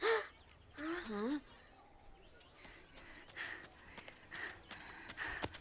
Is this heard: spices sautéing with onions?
no